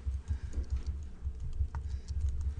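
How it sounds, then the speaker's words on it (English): Typing on a computer keyboard produces soft, scattered key clicks that sit low in the mix beneath a steady low-pitched rumble, with no voices. "So now just type in some text."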